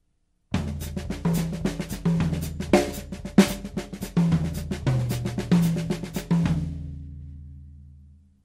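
A drum set plays a pattern around the toms with the bass drum feet thumping underneath, crisp close hits in a steady groove that fade out into ringing drums at the end.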